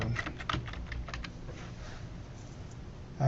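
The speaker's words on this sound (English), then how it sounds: "I'm going to start typing the title bar" Quick bursts of typing on a computer keyboard, a close run of crisp key clicks in the first second or so, thinning to a few taps, then quiet with a closing thump.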